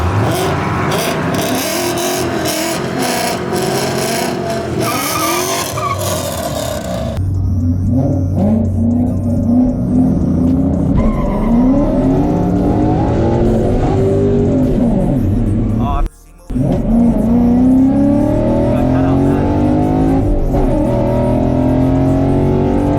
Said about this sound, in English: We'll do a little burnout.